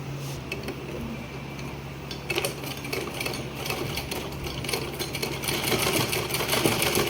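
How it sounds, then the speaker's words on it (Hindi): A sewing machine runs steadily while stitching a suit, its continuous mechanical whir and needle ticking filling the whole stretch with no talk over it. "यहाँ से ऐसे सिलाई करेंगे और इस तरह से सिलाई करेंगे"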